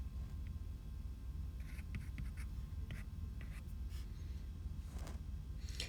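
Pen strokes drawing a chemical structure by hand, faint scratchy scribbles in short bursts over a steady low room hum, with no talking.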